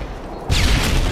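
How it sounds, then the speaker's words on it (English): A stun grenade goes off in a video game as a single sudden boom that turns into a sustained loud roar and ringing. "Throwing a stun grenade!"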